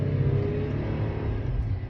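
A car accelerates to get around a produce truck on the road, a steady low engine rumble and road drone heard from inside the car, swelling slightly then easing off, with no talking.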